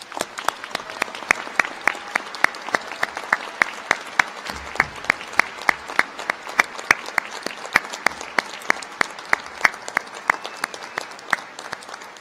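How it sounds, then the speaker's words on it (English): An audience at the Central Connecticut State University 2022 winter commencement applauds the faculty with sustained, steady clapping that runs evenly for about twelve seconds. "please join me in giving our faculty a much-deserved round of applause."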